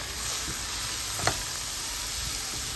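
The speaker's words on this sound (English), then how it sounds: "So let's stir that around until that gets a little limp." Squash and corn sizzle in a hot pan for calabacitas con maíz while a utensil stirs them. A steady frying hiss runs throughout, with a few soft scrapes and one sharper clink near the middle and no voices.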